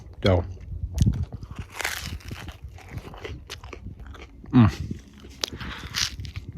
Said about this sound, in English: Do a crunch sound test on this dough.